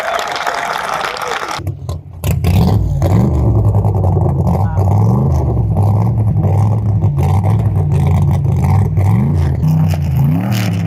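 Streamliner race car with a Tesla drivetrain at Bonneville, first a muffled rolling push, then a sudden loud electric-motor surge that holds a rising, wavering whine close by as it takes off.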